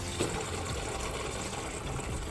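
Coolant pours from the radiator of a Mazda Miata MX-5 NA with the radiator cap removed, a steady close gushing trickle of liquid that runs continuously with no voices.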